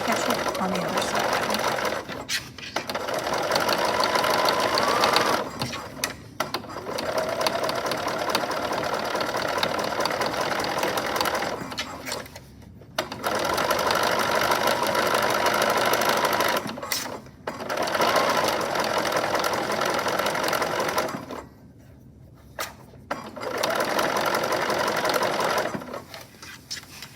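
A sewing machine stitches a circle on a Butterick 6994 summer dress, running in several long whirring bursts separated by short pauses, close and fairly loud.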